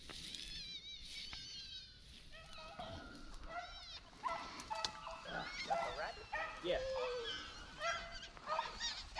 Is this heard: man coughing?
no